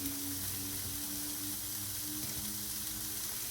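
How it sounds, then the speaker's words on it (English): Onions sizzle steadily on a flat griddle set around 350 to 400 degrees for a Philly cheesesteak, a constant soft hiss and crackle with a faint hum underneath, no talking. "I'm just going to let y'all watch the onions cook for a second"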